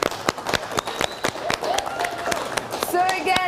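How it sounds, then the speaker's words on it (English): A short round of applause for firefighters at a fire and rescue foundation breakfast: sharp, scattered claps that thin out while people start talking. "So a really quick round of applause."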